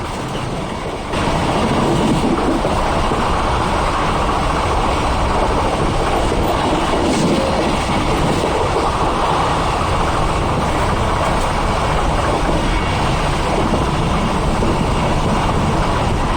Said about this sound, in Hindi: और हमारी ट्रेन 16311 इसके अंदर लगा हुआ है एर्नाकुलम का WD-4D इंजन जो 4500 हॉर्स पावर का है